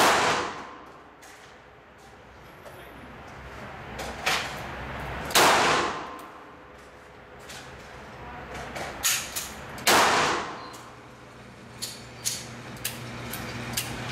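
Handguns fire at a shooting range: a few sharp, loud reports spaced several seconds apart, with handling clatter and faint voices in between.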